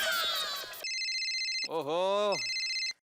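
An electronic telephone ring sounds in repeated steady bursts, loud and close, interrupted midway by a short exclamation from a voice.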